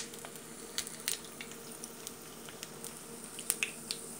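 Olive-oil-soaked bread frying in a pan, a faint steady sizzle broken by scattered light pops and crackles.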